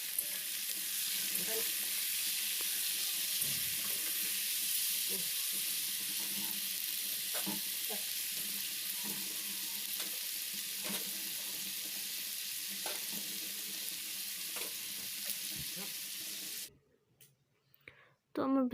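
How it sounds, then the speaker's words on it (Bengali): Potatoes fry in leftover fish-frying oil, giving a steady, close sizzle with scattered pops and crackles throughout, then it cuts off near the end as the pan is handled. "ওই তেলেই আমি আলুটা ভেজে নেবো"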